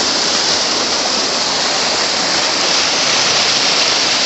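Tokopah Falls, a mountain waterfall in a rocky canyon, pours as a dense, steady roar of rushing water, loud and close, constant throughout with no talking.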